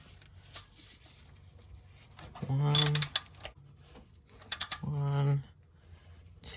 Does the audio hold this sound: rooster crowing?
no